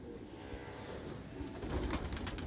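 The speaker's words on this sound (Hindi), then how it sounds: "कौन सा कबूतर है ये?" A high-flying pigeon coos in soft, low repeated murmurs, faint against a steady background hum with no talking.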